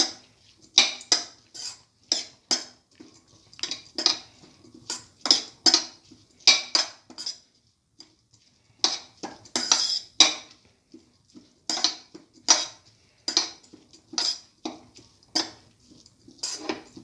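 A utensil works watermelon milk vermicelli around a bowl, making close, rhythmic scraping and clinking strokes in quick repeated bursts with short pauses between them.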